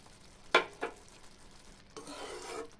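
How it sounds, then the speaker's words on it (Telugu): Fried dry fruits stirred into a pot of moong dal and jaggery payasam, with two short scraping stirs followed by a longer, softer rubbing scrape. "మనం ద్వారగా వేయించి పెట్టుకున్న డ్రై ఫ్రూట్స్ని అందులో వేసి కలుపుకోవాలి."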